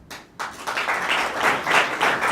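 Short burst of audience applause at a lecture, starting abruptly after a moment of quiet and rising to a dense patter of claps over about two seconds.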